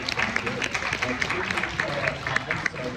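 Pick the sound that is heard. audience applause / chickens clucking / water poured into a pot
audience applause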